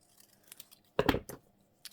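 Scissors trimming paper for a junk journal page, a quiet snip cluster followed by a firmer cut, close and alone.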